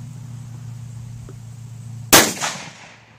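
A single loud, sharp rifle shot from a .460 S&W Thompson Center Encore, fired outdoors over a steady low engine-like hum, with a brief echoing decay afterward.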